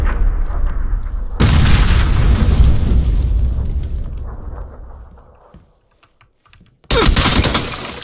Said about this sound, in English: Throwing a bunch of grenades in.